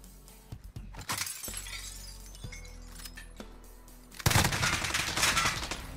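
Glass shatters loudly in Call of Duty Warzone as a player crashes out through a window, a sudden bright burst after a stretch of scattered game noise and gunfire-like cracks.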